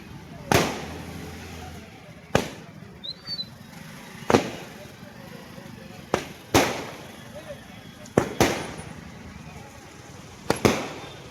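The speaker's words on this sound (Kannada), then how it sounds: "ಸಾಗರ ಹೋಟೆಲ್ ವೃತ್ತದಲ್ಲಿ ಪಟಾಕಿ ಸಿಡಿಸಿ ಭಾರತೀಯ ಸೇನೆಗೆ ಜೈಕಾರ ಹಾಕಿ ಸಂಭ್ರಮಿಸಿದರು" Firecrackers burst at a street celebration at a hotel circle in Sagar, with a procession cheering for the Indian Army: about seven sharp, loud bangs come at irregular intervals of roughly two seconds over a low murmur of crowd noise.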